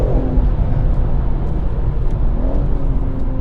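BMW M140i engine blipping on a downshift with automatic rev matching, a loud, steady in-car engine drone with rising rev harmonics over constant road and cabin rumble.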